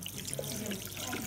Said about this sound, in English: Next, wet hands thoroughly under warm running water.